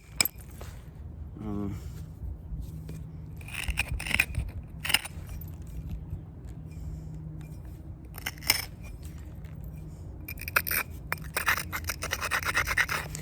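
Small shears snipping and clicking on a boxwood bonsai planted on basalt, irregular close metallic snips and rustles of foliage scattered through the clip, with a low hum underneath.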